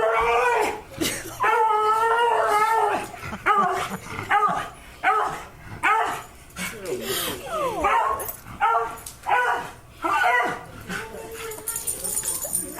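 Close, loud dog barking in repeated bursts with yips and whimpering between, voices talking in the gaps.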